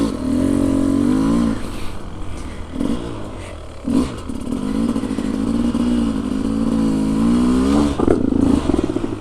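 A motorcycle engine with a clutch problem and an electrical fault, on a group ride, revs up and down in loud rising and falling sweeps with a clunk partway through, close by.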